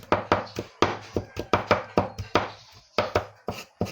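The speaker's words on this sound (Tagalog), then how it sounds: "So i-slice natin guys na maliit para makainin natin guys yung bawang." Garlic cloves being sliced into small pieces with a knife on a cutting board, a quick run of sharp, close chopping taps in an uneven rhythm with short gaps between bursts.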